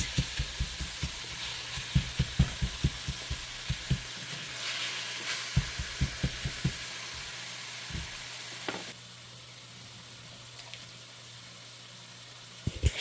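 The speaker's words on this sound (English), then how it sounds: "You hear that sizzle?" Steady sizzle of meat frying in a pan, with a series of sharp knocks and scrapes from a utensil, then a quieter hiss near the end.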